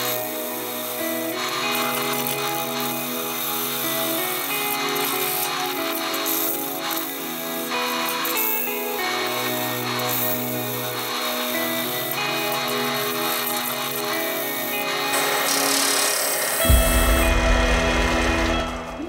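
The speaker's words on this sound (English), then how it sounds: "It's so much nicer actually to machine wet wood." A wood lathe turns a wet paperbark tree blank for a vase, giving a steady rough scraping and rubbing whir of tool on spinning wood, with a louder, heavier grinding burst near the end.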